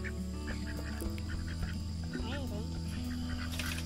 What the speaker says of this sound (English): Those are the boy ducks